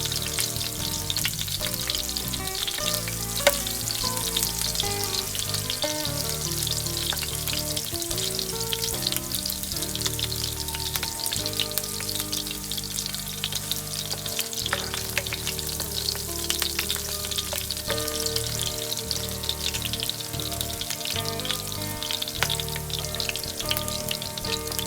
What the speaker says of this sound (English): First thing you're gonna put is garlic, and you keep on turning until it becomes brown.